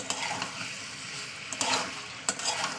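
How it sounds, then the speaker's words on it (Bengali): Potatoes, spices and tomato fry together in hot oil, a soft steady sizzle broken by a few sharp scrapes and clinks of a spoon stirring the pan. "সব একসঙ্গে তেলের সঙ্গে কষিয়ে নেবো।"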